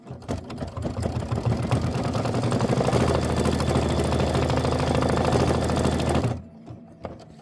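An embroidery sewing machine stitches a tack-down on a thick quilt block, a steady, close mechanical whir with rapid needle rhythm running for several seconds before stopping abruptly.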